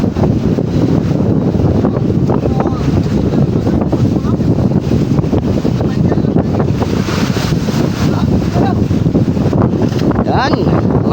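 Strong wind at sea on the Pacific Ocean, loud continuous buffeting roaring into the microphone throughout, with waves and boat noise mixed underneath.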